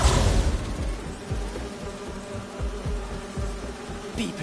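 Buzzing bee wolves from a video game, a steady insect drone with fluttering wingbeat pulses, close and continuous throughout, with no voices.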